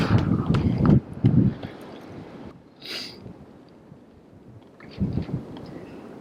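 Strong desert wind buffets the microphone in gusts, with heavy low rumbling bursts near the start and again toward the end, separated by quieter stretches of steady rushing air.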